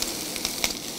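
Peas tipped into a hot frying pan with chorizo pieces set off a steady close sizzle, with a few short crackling bursts over the hiss.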